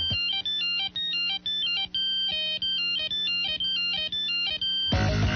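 A Nokia 8260 or 5165 mobile phone plays a bright, beeping monophonic ringtone melody. It repeats in quick regular phrases, loud and alone, and is cut off by a different noise at the end.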